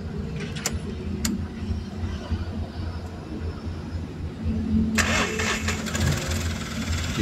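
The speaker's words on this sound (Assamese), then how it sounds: "গাড়ীখন ষ্টাৰ্ট দি চাম প্ৰব্লেমটো কি হৈ আছে।" A Mahindra Supro with a white smoke fault starts up: a low engine drone with clicks and knocks, then a louder burst as it catches and keeps running nearby, no talking.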